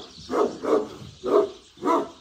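A dog at a rural home barks four times in steady succession, each bark loud and close with short pauses between, and no voices over them.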